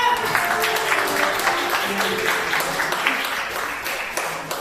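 A church congregation at a Sunday service claps rhythmically and steadily throughout, with voices heard over the clapping.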